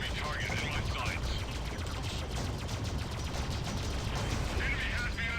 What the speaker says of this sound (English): these new guns are great. They are really doing the job.